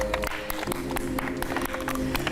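An audience applauds at a gathering, a crowd's scattered claps rattling steadily and fairly close throughout the short stretch.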